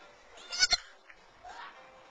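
A baby goat bleats close by, giving two short, strong cries followed by a fainter, drawn-out call.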